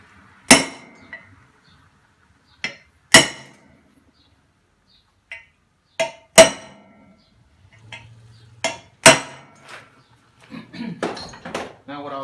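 Sharp metallic hammer strikes on a punch marking hole spots in welded metal for a homemade car rotisserie, about seven spaced blows ringing out close by, with brief shuffling and clinks between them.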